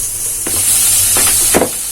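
Chickpeas (chana) fry in a pan with a steady, bright sizzling hiss. A few clattering stirs or scrapes break through near the middle and end. No one speaks.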